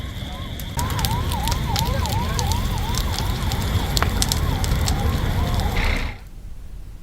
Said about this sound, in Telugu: లారీని ఢీకొట్టడంతో బస్సులో ఒక్కసారిగా మంటలు చెలరేగాయి